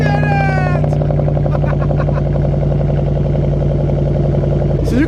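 A Range Rover engine runs with a steady low rumble and hum up close. A rising tone sounds at the very start and a short clunk comes near the end. Voices talk over it throughout.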